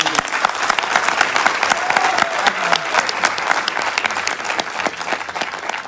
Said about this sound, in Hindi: तो सबके लिए जबरदस्त तालियां।